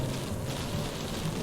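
Steady rain during a nighttime drive in the video game Chromatose, a continuous even patter with low rumble underneath, filling the short moment at constant loudness.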